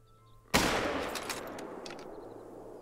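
A single hunting rifle shot in the video game theHunter: Call of the Wild, a sudden loud blast after a quiet start, followed by a long fading outdoor echo.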